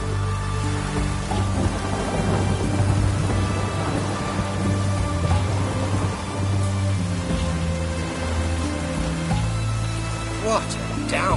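Steady heavy rain pours down with a low rumble of thunder in the video game The Witcher 3: Hearts of Stone, mixed with a sustained musical drone.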